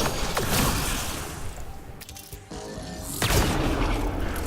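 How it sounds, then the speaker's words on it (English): A grenade blast in the game Mass Effect Andromeda, heard as booming crashes: one near the start and another swell toward the end, with rumbling debris in between. "Grenade away."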